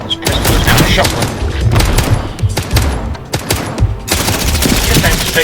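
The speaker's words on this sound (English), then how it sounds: "This pistol is now a shotgun." Rapid, loud gunfire bursts from a shotgun in a mobile video game, with a dense fusillade of shots and game effects filling the stretch almost continuously.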